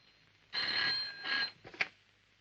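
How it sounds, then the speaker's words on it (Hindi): A telephone rings in the 1966 Hindi film Teesri Manzil, two faint trilling rings followed by a short sharp click, heard alone against quiet background. "अब शम्मी कपूर इंस्पेक्टर को फोन करता है"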